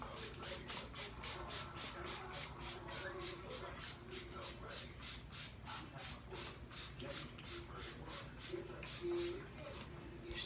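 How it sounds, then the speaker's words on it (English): A spray bottle misting hair until damp, with repeated quick hissing spritzes in a steady rhythm, close and fairly loud, and a voice faintly underneath. "my spray bottle and make sure I go ahead and mist it"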